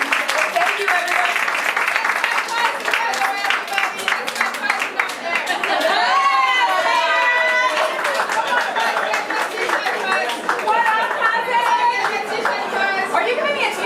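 Audience applause at a film festival panel, steady dense clapping mixed with crowd chatter and cheers throughout, with a voice speaking over it partway through.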